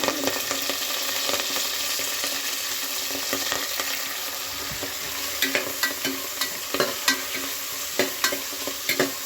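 Home-grown fenugreek leaves fry in hot tempering oil for a country-chicken sambar, a steady sizzle overlaid with repeated scraping stirs of a spoon that grow sharper and more regular toward the end.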